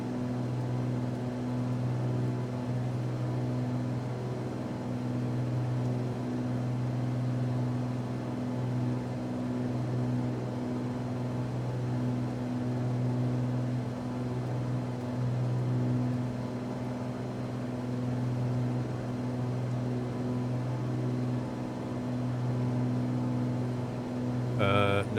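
Aircraft engine held at reduced RPM in Microsoft Flight Simulator, a steady droning hum with strong low tonal bands that stays even for the whole stretch, with a brief rise at the very end.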